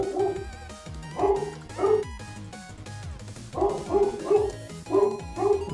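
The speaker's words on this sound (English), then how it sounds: "the dogs are barking" Several dogs bark repeatedly in rhythmic bursts, fairly close and loud, over a steady background of humming electronics and tonal noise in a workshop.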